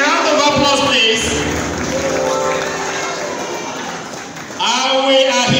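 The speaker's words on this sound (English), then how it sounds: "A round of applause, please." An audience at a high school graduation and prize-giving ceremony breaks into a long stretch of applause and crowd noise, framed by a loud amplified voice speaking before and after.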